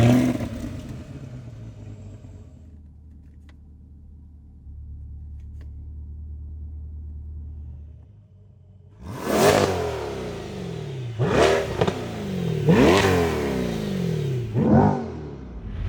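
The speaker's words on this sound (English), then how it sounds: "let's listen to these exhausts one more time" A 2024 Chevrolet Corvette E-Ray idles with a low, steady rumble, then its exhaust barks through several sharp, loud revs in quick succession, each rising and falling, with no one talking.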